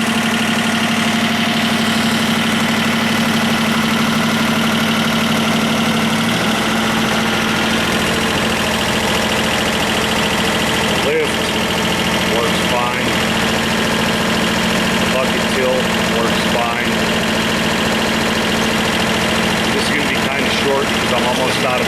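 A John Deere 1050 tractor engine idles steadily and loudly nearby, with its tone shifting slightly after a few seconds and continuing as a constant rumble.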